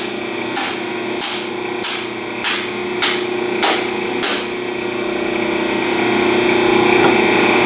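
Sharp metallic hammer blows bend a tailpipe on a 1974 Ford F100 Ranger XLT into place, seven evenly spaced strikes ringing out close and loud, then giving way to a steady hum with no further hits.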